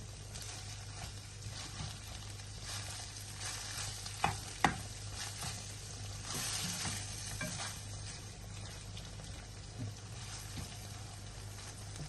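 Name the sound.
kidney frying with salt, stirred in pan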